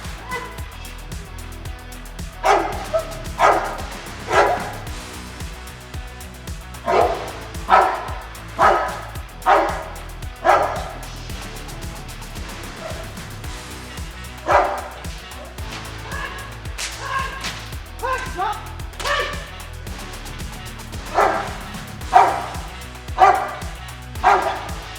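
A dog, apparently a Presa, barks repeatedly in strong bursts during protection bite training, short clusters of loud, close barks spaced through the stretch with quieter handling noise and occasional voices between.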